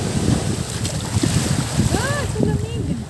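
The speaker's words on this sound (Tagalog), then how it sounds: "Malakas ang hangin." Steady, heavy wind rumbles and buffets the microphone at Puerto Galera, with water lapping beneath and faint voices calling through the gusts.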